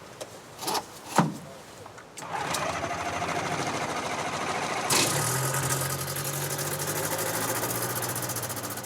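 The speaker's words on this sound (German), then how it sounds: "Der 65 PS starke Zweitaktmotor übernimmt den Antrieb und erlaubt es dem Piloten, das Luftschiff zu steuern." An airship's 65 hp two-stroke engine starts after a few thumps and settles into a steady, buzzing drone that grows fuller and keeps running at a constant pitch.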